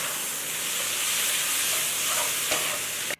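Pork belly with tea tree mushrooms and green and red chilies is stir-fried in a wok, giving a loud, dense, continuous sizzle and hiss with a brief scrape before it cuts off abruptly.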